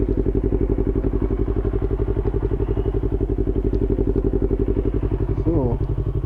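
A Yamaha YZF-R25 twin engine revving hard to redline, a buzzy rapid pulsing drone held steady and loud throughout, with a brief pitch change near the end as a gear shift comes in.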